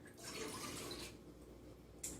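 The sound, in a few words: broth poured into a pot with rice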